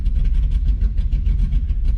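A Chevrolet Camaro Z28 V8 idles low and steady after an idle air control valve fix, a close, rumbling throb with a gently pulsing, even rhythm.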